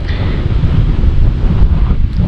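Strong wind roars across an open campsite at Sica Hallow State Park, South Dakota, buffeting the microphone in a loud, continuous rumbling gust with no voices.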